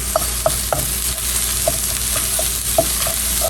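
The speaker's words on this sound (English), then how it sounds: "I'm just going to start cooking the ground pork, get it brown." Ground pork browning in a pan for egg roll filling, a constant sizzle broken by sharp scraping strokes of a utensil stirring the meat at irregular intervals, close by with no talk.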